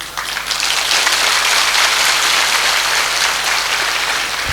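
A large indoor audience claps at a motivational speech event for the Ghar Aangan Foundation, producing dense, sustained applause that swells quickly and holds steady for several seconds with no voice over it.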